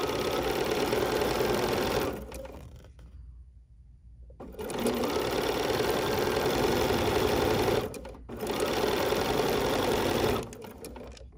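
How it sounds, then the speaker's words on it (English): A sewing machine stitches a fabric strip for an embroidery sampler block, running loud and close in three steady bursts of rapid mechanical whirring separated by short pauses. "So I'm going to lower my presser foot. And now we're going to stitch."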